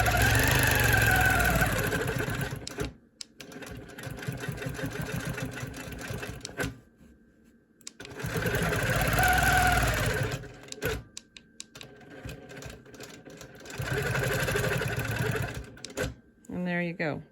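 A sewing machine stitches in three bursts of quilting ruler work on a vintage block, each rapid buzzing run lasting a few seconds and separated by quiet pauses, close and clear with a voice talking between bursts.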